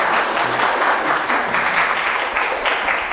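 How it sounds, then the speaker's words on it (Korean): Audience applause for a visiting painter at an artist-talk event, a steady wash of many hands clapping throughout at moderate, even loudness with no voices. "우리 한번 응원의 박수 한번 부탁드립니다"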